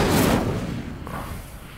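An Incendio fire spell is cast in the video game Hogwarts Legacy, giving a loud, sudden whooshing burst that fades over a dense game soundscape.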